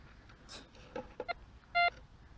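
Metal detector sounding over a rusty rock in the ground outdoors: a few short electronic beeps, the last one longer, loud and close, with quieter handling noises in between.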